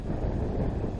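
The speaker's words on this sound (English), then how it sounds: "I already said it's pretty windy today." Wind blows steadily on a lake, a dense low rumble of gusts buffeting the microphone, close and continuous for the whole moment with no voices.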